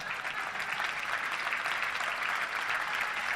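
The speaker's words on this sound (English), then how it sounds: "Let's give them a round of applause." An audience at a Little Rock Touchdown Club event applauds, steady sustained clapping from a crowd that holds evenly throughout.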